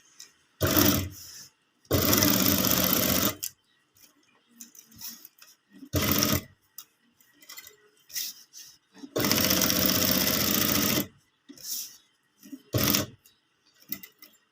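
A sewing machine stitching seams along both sides of a fabric strip, heard in several loud bursts of rapid whirring separated by quiet gaps with faint handling noises.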